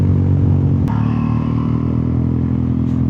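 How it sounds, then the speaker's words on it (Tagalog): A Yamaha Aerox scooter passes close by at a hillside camping site, a loud, steady engine drone with a rumbling low end, no voices. "Yan nga pala yung motor ni Boy Boy, yung kanyang Aerox"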